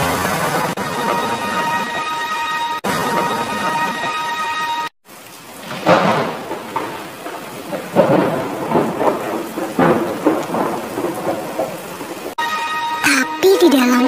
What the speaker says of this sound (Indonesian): Hujan turun sangat deras sampai seluruh kota terendam air.